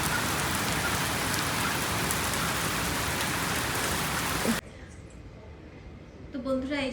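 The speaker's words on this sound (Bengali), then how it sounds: "চারিদিকে পুরো ধোয়া ধোয়া হয়ে গেছে এত জোরে জোরে বৃষ্টি হচ্ছে" Heavy rain pours in a loud, unbroken hiss of large drops hitting surfaces, running steadily for several seconds before cutting off abruptly into a quiet room where a voice begins speaking.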